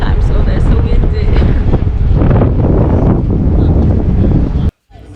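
Strong wind buffeting the microphone outdoors in Montevideo, a loud, steady roar of low rumble and gusts that cuts off abruptly near the end.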